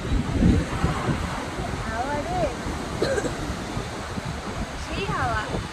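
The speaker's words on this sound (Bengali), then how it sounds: "সেই হাওয়া" Strong wind buffets the microphone beside RK Beach in Vizag with a roaring, gusty rush mixed with surf, loud and continuous, while voices talk over it.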